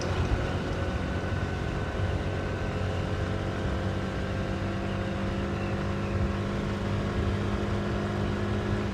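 A TVS Jupiter scooter rides along a road, its engine giving a steady, continuous hum mixed with wind and road rush. The sound is loud and unbroken throughout, with no voices.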